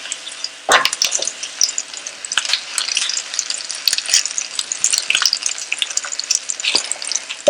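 Bay leaves and cumin seeds crackle and sizzle in hot oil for a tadka, a bright continuous frying hiss with a sharp burst as they hit the oil, heard close and alone.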